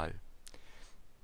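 A single computer mouse click while opening a library in LibreOffice, a short sharp tick that stands out faintly right after a brief burst of speech.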